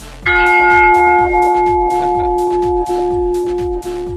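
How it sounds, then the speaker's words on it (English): A loud bell tone rings out and sustains with a steady ringing hum, over a repeating rhythmic pulse of low thuds. "That is a full bell."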